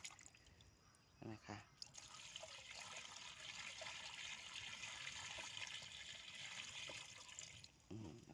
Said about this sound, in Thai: เทน้ำใส่ ให้เต็มถังเลยไหดที